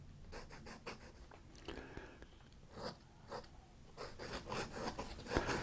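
Eversharp fountain pen nib scratching across paper in downstrokes, cross strokes and circles, a run of short close scraping strokes with brief pauses between them.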